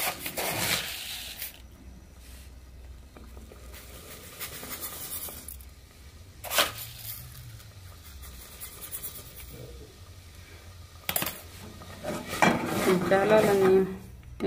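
A spoon stirs soft porridge cooked in water with sugar in a pot, giving intermittent scraping and rubbing strokes against the metal. The strokes grow louder and busier toward the end.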